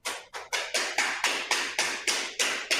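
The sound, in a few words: knocking vinyl flooring planks into place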